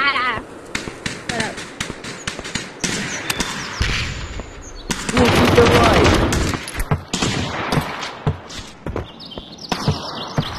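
Gunfire in the VR shooter game Aim XR, with bursts of sharp shots and rapid-fire volleys, some near and loud, under frequent talk from players.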